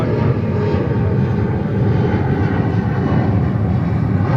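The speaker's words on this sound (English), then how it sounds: "runway 13 right, cleared for takeoff" Fixed-wing airliner taking off from runway 13 right at JFK Airport in New York, a loud sustained engine roar with broad rumble that stays powerful and steady throughout, heard without any talk.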